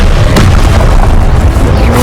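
A heavy booming blast from the Confringo explosion spell in a Harry Potter video game rumbles loudly and fills the whole moment, with a sharp crack near the start.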